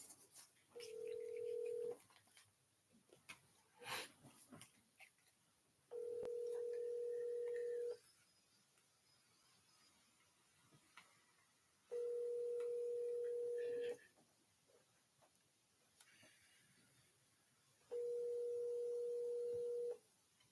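Outgoing phone call: a steady ringback tone in four long bursts of about two seconds each, evenly spaced with quiet gaps, preceded by brief dialing blips.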